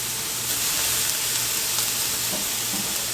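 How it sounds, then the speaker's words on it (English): Broccoli sizzling and hissing steadily as it is tossed in a hot pan of beef and broccoli, a continuous loud frying crackle with faint stirring scrapes throughout. "we're just going to toss this around just to warm up that broccoli"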